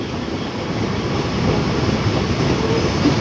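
A train pulls into Kechki station at the confluence of the Koel and Auranga rivers, its steady rumbling wheel and carriage noise filling the scene without a break, with a faint squeal near the end.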